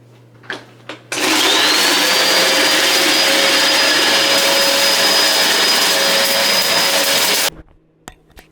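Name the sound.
vacuum cleaner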